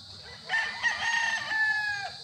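A Boston gamefowl rooster crows once, a single drawn-out cock-a-doodle-doo at moderate distance, clear over quiet farm background.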